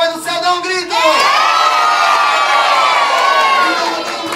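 A crowd of party guests at a child's first birthday celebration lets out a loud, sustained cheering shout, many voices including children together, close and continuous.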